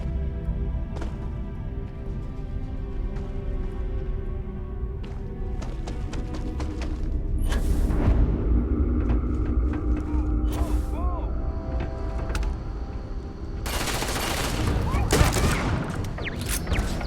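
Shotgun blasts in a video game fire in bursts over a busy, continuous background of game sound, loud and close, with a clustered burst of shots near the end.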